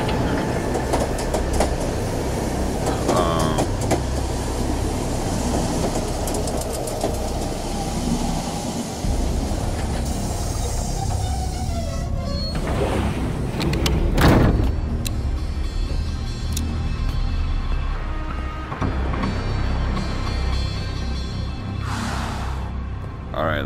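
A train in the video game Here They Lie, played in VR, rumbles steadily throughout with rhythmic clattering and metallic screeches, loud and continuous, with occasional voices underneath.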